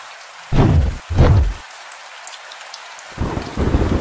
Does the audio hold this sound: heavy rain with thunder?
yes